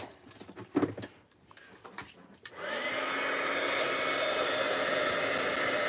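After a few handling clicks and taps, a heat gun switches on and blows steadily with a loud, close whoosh, warming embossing powder on a stamped image.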